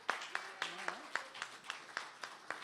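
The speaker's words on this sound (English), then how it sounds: "Give him a round of applause." A church congregation gives a quiet round of applause, sounding as a faint, steady patter of roughly even claps across a few seconds, with no voices over it.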